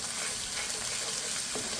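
Ginger and garlic paste sautéing in a pan for an egg and eggplant korma, giving a steady, loud sizzle and frying hiss throughout with faint stirring scrapes.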